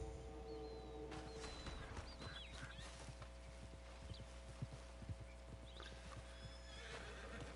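In a PS4 cowboy video game, a horse's hooves clip-clop in quick irregular steps while it neighs and whinnies, set against a steady droning ambient hum at moderate, slightly distant loudness.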